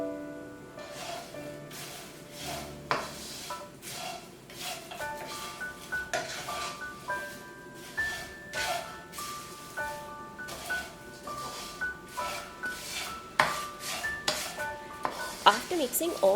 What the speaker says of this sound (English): Then add all fried ingredients into this and combine thoroughly.